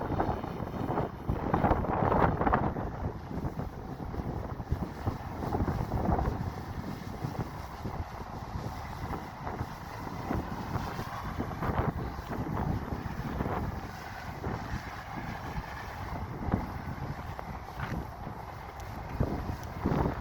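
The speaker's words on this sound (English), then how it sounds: "there's so much wind out here" Strong wind buffets the microphone outdoors at a drone test flight site, a continuous loud rumbling roar with gusting surges throughout and no talking.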